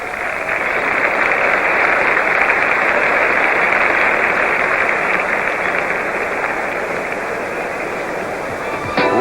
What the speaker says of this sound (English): give these youngsters an encouraging round of applause